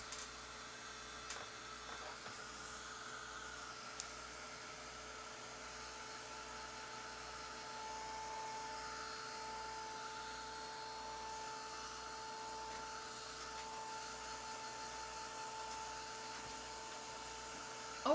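A hair dryer blows steadily to dry paint, a constant whooshing airflow with mains hum, moderately quiet and unbroken for the whole stretch, with a few small knocks and no speech.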